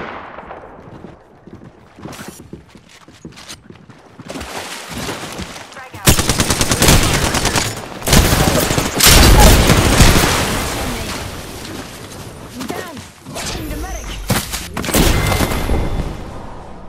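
Gunfire in the video game Apex Legends crackles in rapid automatic bursts and single sharp shots, sparse at first and then dense and loud, with short pauses between exchanges.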